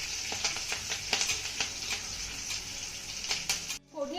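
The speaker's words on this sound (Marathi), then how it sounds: "आता ही फोडणी ना थोडीशी परतून घ्यायची आहे" Cumin, dried chillies and curry leaves sizzling in hot oil as a tempering for a rice-flour breakfast dish, a continuous bright crackle with stirring clicks, cutting off abruptly near the end.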